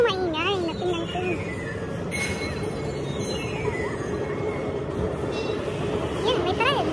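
A Richmond-to-Vancouver train rumbles past Olympic Village with steady rolling noise and high metallic wheel squeals, while people talk faintly nearby.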